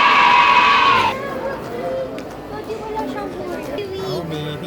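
Goats in a large barn at the Saanich Fair bleat loudly at first, then the calls fade into a busy background of crowd chatter and nearby voices.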